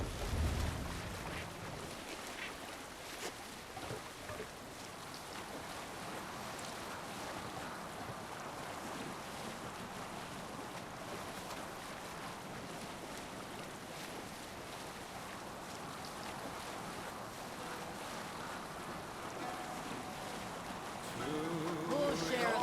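Viking longship sails through waves with strong wind buffeting in Assassin's Creed Valhalla, a broad steady rush of water and gusting air throughout, faint muffled voices underneath.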